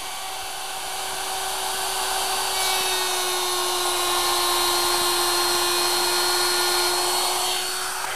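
A wood router cuts a wider groove in a board, a steady high-pitched whine that swells as the bit bites in, holds for several seconds, then fades as the cut ends.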